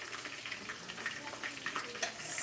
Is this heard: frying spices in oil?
yes